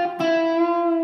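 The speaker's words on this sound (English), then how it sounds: "we can actually bend the flat minor third to the actual minor third, and it's going to sound like this." An overdriven electric guitar note is bent from the flat minor third up to the minor third and held steady, ringing thick and distorted on its own for about a second.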